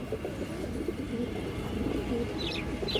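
Pigeons at a farm loft coo continuously in a low, overlapping murmur, several birds close by, with faint chirps higher up near the end and no talk.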